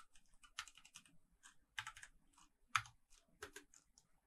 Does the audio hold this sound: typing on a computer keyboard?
yes